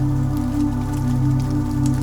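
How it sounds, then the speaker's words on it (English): Steady, gentle rain falling over a soft bed of sustained light music, an even, continuous hiss with no voices. "ASMR rain sounds for sleep"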